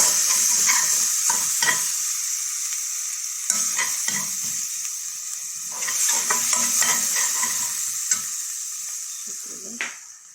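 A spoonful of garlic fries in a pan, a continuous hissing sizzle broken by intermittent stirring scrapes and light clinks of the utensil against the pan, close and moderately loud.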